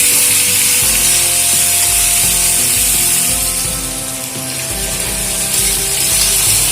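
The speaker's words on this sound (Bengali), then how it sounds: "এবার একটু ভেজে নেব গুড়গুলোকে হালকা করে।" Jujubes fry lightly in mustard oil with salt and turmeric, a continuous close sizzle with some stirring and mechanical clatter mixed in, dipping briefly midway before returning.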